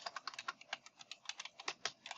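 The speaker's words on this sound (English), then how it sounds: "so here, I'm just going to type" Rapid typing on a computer keyboard, a steady stream of close, crisp key clicks with an uneven rhythm, heard alone with no talking.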